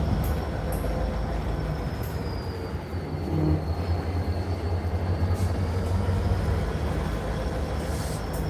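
CSX or Norfolk Southern freight cars roll past a trackside cliff overlook in a steady, loud rumble of wheels on rail, with faint metallic squeals and clanks throughout and no talk.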